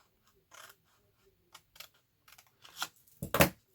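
Scissors cut through the bottom flap of a paper envelope, making a few sparse crisp snips and paper rustles that grow louder toward the end, close up in a quiet room.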